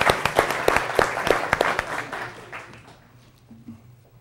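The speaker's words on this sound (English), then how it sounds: "Let's have a nice round of applause for our student." An audience applauds a student speaker at an evening lecture, dense clapping that is loud at first and then thins and fades over a few seconds.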